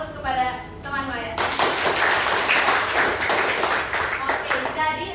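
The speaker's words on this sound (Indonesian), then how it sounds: "Semuanya beri aplaus kepada teman Maya" Classroom applause for a student answering in a biology lesson, a burst of many hands clapping for several seconds, with a teacher's voice speaking before and after.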